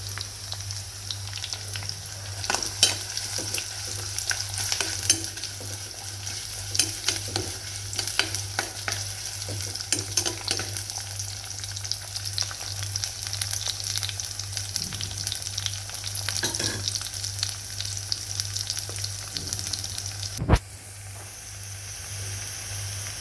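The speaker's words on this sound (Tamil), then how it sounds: "சின்ன வெங்காயம் கொஞ்சம் வதங்கட்டும்" Small shallots sautéing in a pan for a traditional Tamil elephant foot yam masiyal, crackling and sizzling steadily with intermittent stirring scrapes and one sharp knock near the end.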